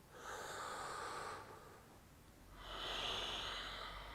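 Two slow, deep breaths during a held lower-body yoga pose, each a long airy inhale or exhale, close and clear with a short pause between them.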